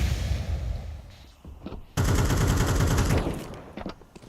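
Automatic gunfire and grenade blasts from a Counter-Strike esports match, a dense, loud burst of rapid shots, a short quieter gap, then another intense volley with scattered pops.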